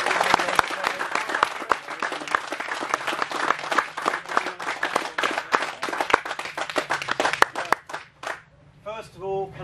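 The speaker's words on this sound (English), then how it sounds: "Big round of applause." A crowd at a national tench angling championship prize-giving applauds steadily, dense clapping lasting several seconds before tapering off, with a voice speaking briefly at the end.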